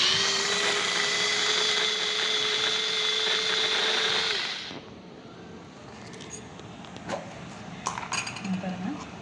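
A manual pull-cord vegetable chopper whirs loudly as it chops onions for about four seconds, then stops, followed by quieter clicks and clatter of handling the plastic container.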